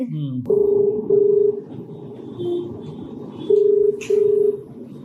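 Telephone keypad tones as a call is placed, several steady beeps in short bursts, some paired, over a background of muffled talk and room noise.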